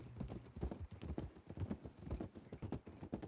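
Horse hooves clip-clop steadily on a hard track, close and clear, a brisk rhythmic trot with no talking over it.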